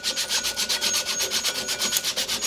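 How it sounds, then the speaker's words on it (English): A glazed pulley on a Cimex machine is scuffed with 80 grit sandpaper, giving a close, loud, rhythmic rasping with rapid, even back-and-forth strokes all the way through. "So I got some 80 grit sandpaper. I can rough that up a little bit really good"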